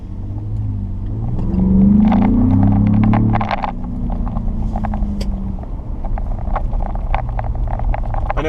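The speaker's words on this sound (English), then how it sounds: "Let this car pass." A car passes close by outdoors, its engine rumble swelling to a loud peak and then receding into steady low road and wind noise.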